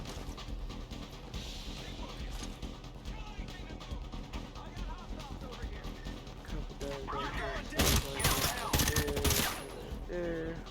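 Gunfire in the tactical shooter Ghost Recon Breakpoint, played with no HUD: a steady crackle of shots under game ambience, with a louder burst of rapid close-range fire near the end.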